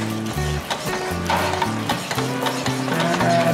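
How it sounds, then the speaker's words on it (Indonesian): Thick chocolate ongol-ongol dough being stirred in a pan, a continuous sizzle with repeated scraping strokes of the utensil at a close, steady rhythm, no talking. "Nah, aduk lagi terus, Vira."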